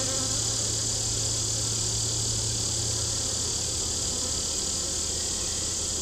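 Honey bees drone in a dense, steady buzz at an open, weak summer hive during an inspection, close and constant with no voices.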